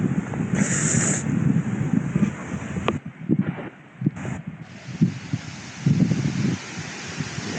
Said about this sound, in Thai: ลมแรงมากครับ ฟังจากเสียง